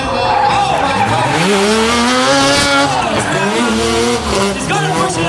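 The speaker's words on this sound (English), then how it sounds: "the rotary sound, the trademark rotary sound" A rotary-engine drift car revs hard with a rising and falling engine note while tires squeal through a drift, loud and continuous.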